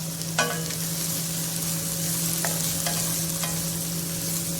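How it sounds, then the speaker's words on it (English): Onions and peppers fry in a pan for vegetable fried rice, a continuous sizzling hiss over a low steady hum, broken by a few sharp spatula clacks against the pan, with no one talking. "I'm going to add all our peppers and onions and leave the garlic for now until another few minutes."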